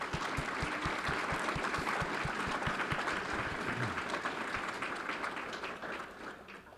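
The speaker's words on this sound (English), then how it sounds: "Let's give them again a round of applause for their great efforts." Steady applause from the audience at a Fort Worth school board meeting honoring pre-K students, with some sharp, rhythmic claps early on, gradually fading toward the end.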